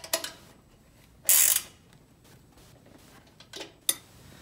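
Back seat bolts being tightened on an Amtryke 1020 hand cycle: a few sharp metallic ratchet clicks and one longer grinding rasp, separated by quiet gaps, close and fairly faint, with no talk.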